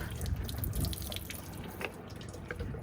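Tap water running steadily to fill a van's water tank, a weak, broad splashing flow with occasional drips, fairly close and continuous with no talk.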